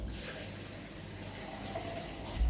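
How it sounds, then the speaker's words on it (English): Plain tap water streams into a container for mixing acid dye. The pour is a soft, continuous gushing fill that stays faint and even, with no voices. "let's add 200 ml of plain tap water"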